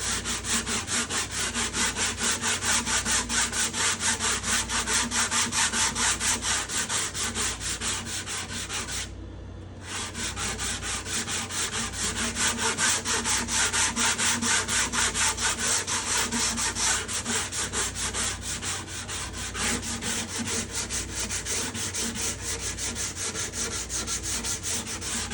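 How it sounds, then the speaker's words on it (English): Steady back-and-forth sanding of a domed wooden guitar soundboard with fresh sandpaper, a rasping rhythmic scrub that continues close and even, pausing only once for a moment. "I'm going to move to the fresh side of the sandpaper because that other side is getting a little bit tired. Now it's really cutting hard again."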